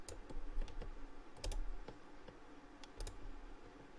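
Computer keyboard keys are pressed in a steady run of sharp, close clicks and taps, a few louder strikes standing out, with no talk over them.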